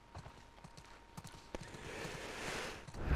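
Horse hooves clip-clopping at a walking pace in The Last of Us Part 2, soft, fairly close, even steps, with a rising wash of ambient noise midway and no talk.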